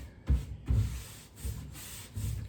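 Dark wax rubbed onto a wooden furniture centerpiece with quick, light strokes: four soft, low scuffing bursts of rubbing spaced about half a second apart, close and fairly quiet, with no talking.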